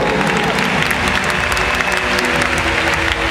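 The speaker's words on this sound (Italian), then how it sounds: "un applauso forte" A large crowd in Rome gives loud, dense applause that stays unbroken and close throughout, with no pauses or distinct voices.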